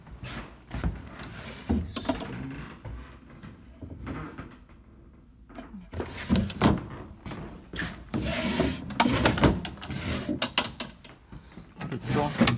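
Wooden drawers of an old buffet slide open and shut, giving repeated rubbing scrapes and knocks in irregular bursts, close by, with a few quiet stretches between.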